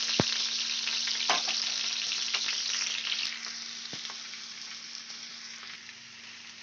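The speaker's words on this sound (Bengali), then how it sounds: "কাঁচা লঙ্কাটা আমি একটু ভেজে নেব।" Chopped green chilies frying in hot oil give a dense, continuous sizzle that fades slightly toward the end, close and steady, with a couple of sharp clicks and no talk.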